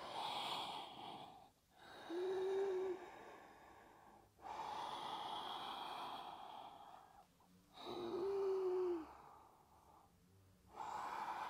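Breathing during a postnatal yoga core-strengthening exercise, with repeated audible exhalations and snort-like breaths in a steady rhythm, close and fairly quiet, no talking.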